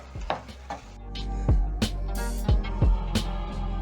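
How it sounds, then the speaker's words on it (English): A spatula clacks against a pan, tossing noodles with spring onions over a low gas-flame roar. The sharp scraping strikes come roughly every half second to second. "Using your spatula, you're going to toss everything together"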